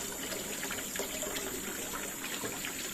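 Cold water running steadily into a basin to soak an Algerian clay tagine before first use, a continuous close splashing trickle and gush with no talk.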